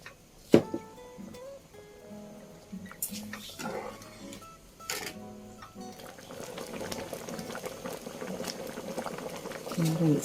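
Water with white sugar bubbling and simmering in a pot for wheat pearl and corn porridge, a steady boil building over several seconds with occasional clinks and soft kitchen knocks.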